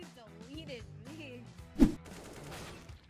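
A single sharp gunshot from a shooter video game cracks out near the middle, standing briefly above steady, relaxed conversation that continues before and after it.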